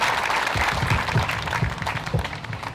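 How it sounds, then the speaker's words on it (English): An audience claps for the theater cast of I Love a Piano at a 9/11 memorial service, dense sustained applause with distinct louder hand claps standing out through nearly three seconds. "Ladies and gentlemen, a nice round of applause once again, please."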